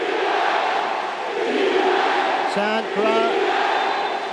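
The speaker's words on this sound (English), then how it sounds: "A crowd chanting defense here for Kurtadzaya" A basketball arena crowd chants for defense, a steady wash of massed voices with a couple of short rhythmic shouted bursts near the end, under a commentator's talk.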